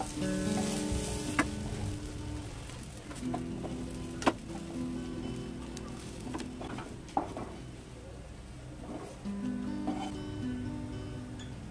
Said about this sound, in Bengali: চিংড়িগুলো খুব ভালোভাবে ভেজে নিয়েছি